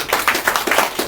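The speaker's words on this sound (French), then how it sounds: "Cela mérite de l'acclamation." Audience applause at a gathering at the urban health centre in Bonon, with distinct claps falling in a quick, fairly even rhythm, close and moderately loud.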